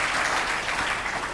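Seminar audience applauding an honoured lecturer, a dense steady wash of many hands clapping in a hall, brief and even in loudness.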